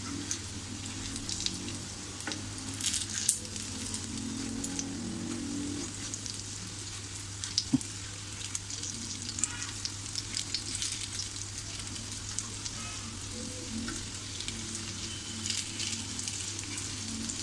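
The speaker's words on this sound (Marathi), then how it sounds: "हे कटलेट फ्राय करायला जास्त वेळ लागत नाही आहे" Soybean cutlet sizzling steadily in a pan over medium heat, a continuous close frying hiss with occasional small pops and no voices.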